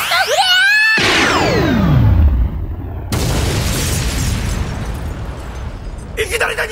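A magic spell called Burst Flare erupts in an anime drama CD: a sweeping whoosh gives way to a loud, sustained booming blast, then a rumbling second burst and crackling debris, with voices heard around it.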